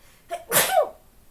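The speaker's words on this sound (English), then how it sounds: "I'm going to sneeze." A single sharp sneeze, a quick intake followed by a loud explosive burst, with silence around it.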